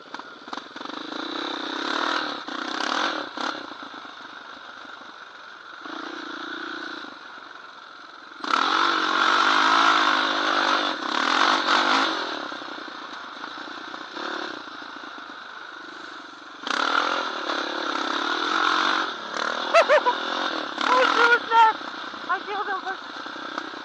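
A Honda TRX700XX ATV spins 360 doughnuts, its engine revving and falling in repeated surges, while people shout and talk excitedly over it outdoors.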